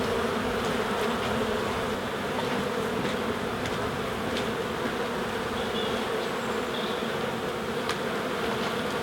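Honey bees buzz in a dense, continuous drone during a spring hive inspection, with chalk brood present in the colony; the humming stays close and steady throughout, with no pauses.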